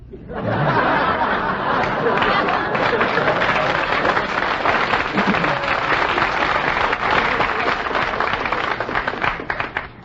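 A studio audience at a game show applauds loudly and steadily, a thick wash of clapping with a little laughter and chatter mixed in, sustained for about ten seconds.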